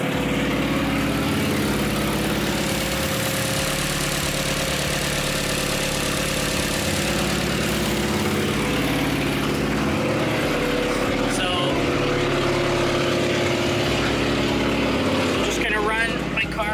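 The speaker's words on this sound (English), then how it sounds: "my car is really loud from a cold start" A Hyundai Genesis Coupe's engine idles loudly after a cold start, close by with a deep, constant rumble, while a person talks over it throughout.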